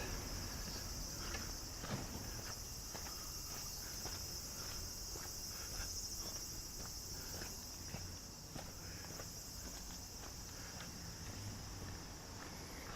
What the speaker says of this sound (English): Yeah, you can hear the cicadas,